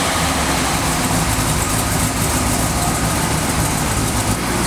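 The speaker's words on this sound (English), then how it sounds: "Stock Hemi, stock idle." A stock 1969 Hemi Super Bee with a solid-lifter cam idles steadily, its loud broadband engine rumble continuous and close throughout with no talk.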